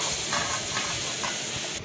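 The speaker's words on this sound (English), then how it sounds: "So guys, I'm frying my okra now." Okra frying in a pan in a Senegal home kitchen makes a constant close sizzling hiss, steady and unbroken, with no talking.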